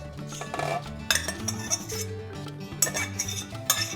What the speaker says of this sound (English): We're going to stir it in until the sauce slightly thickens.